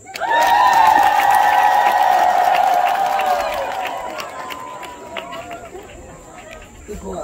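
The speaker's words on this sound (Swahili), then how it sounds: "Makofi mengi." A congregation at a Catholic confirmation and wedding Mass at Chikopelo parish bursts into loud clapping and cheering, with a long high ululating cry, then fades to scattered claps and murmurs.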